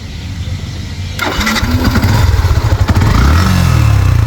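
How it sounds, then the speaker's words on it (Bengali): A used Yamaha FZS V2 motorcycle starting: a starter whir, then the engine catches and settles into a loud, steady, smooth idle close by. "এখন বাইকটা স্টার্ট করে সাউন্ড কন্ডিশন দেখো"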